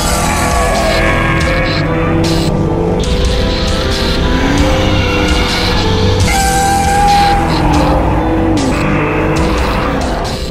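A Nissan GT-R Nismo is driven hard around the La Ferté-Gaucher race circuit, its engine loud and continuous inside the cabin, rising and falling through gears with tyre noise, while people talk over it.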